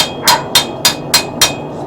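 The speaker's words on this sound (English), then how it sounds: "just this front portion where I've been hammering it" A hammer strikes a steel seax knife blade five times in a steady, quick rhythm, each blow a sharp, bright metallic ring, loud and close, with no talking.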